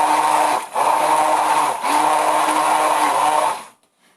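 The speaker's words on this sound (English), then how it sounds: "We want to blend this for about 2 to 3 minutes." An emulsion (immersion) blender whirs steadily as it blends kale stems into a thickening mash. Its loud, continuous motor hum dips briefly twice, then cuts off abruptly near the end.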